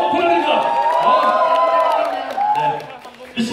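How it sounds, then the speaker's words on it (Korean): Fan meeting audience cheers, whoops and claps in a lively burst that tapers off, with voices rising over the noise. "여러분들 큰 박수 한 소 부탁드립니다"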